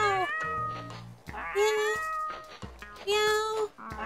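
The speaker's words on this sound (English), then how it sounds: "Kitties! Look and meow!" Several cats meow in the Petz Catz 2 video game, a series of high, drawn-out cries coming in bursts with brief pauses, close and fairly loud, with faint background music.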